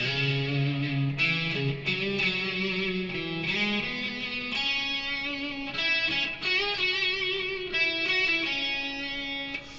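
A distorted electric guitar lead runs through a longer stretch of a solo: bends, vibrato and sustained notes, loud and continuous, alone without any voice.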